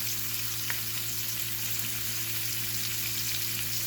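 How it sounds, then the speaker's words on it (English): Bacon frying in a cast iron pan and a nonstick pan at the same temperature gives a steady, close crackling sizzle with a single sharp pop early on, over a low constant hum and with no talking. "right now, this is up to a sizzle now"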